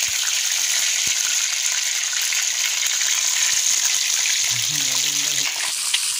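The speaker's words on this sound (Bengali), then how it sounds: "তো দেখুন আমি কি করে ভাজছি 200 গ্রাম তেলে এই গ্রিল চিকেন" Grilled chicken frying in 200 grams of oil over a village stove, a steady close hissing sizzle with no break, and a short low tonal sound toward the end.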